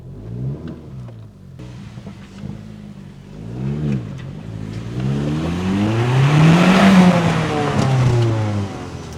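An Audi S3 with a manual gearbox on a road test drive, its engine revving up and down through several gear changes and building to a loud, strained peak before easing off. No talking.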